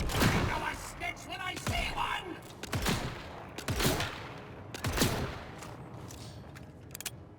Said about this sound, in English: Maybe I could shoot these guys back here for a better example of that.